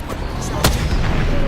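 A single sharp, booming gunshot in a first-person shooter video game cracks out once over a dense, noisy battle background.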